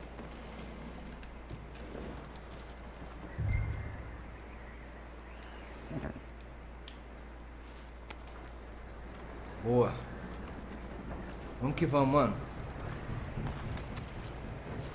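Horse hooves clip-clop in the Red Dead Redemption 2 video game, with a few soft, scattered hoofbeats under quiet ambience while someone talks over them.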